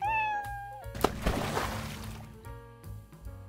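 An Egyptian Mau cat meows briefly, close and fairly faint, among soft background music with no talk.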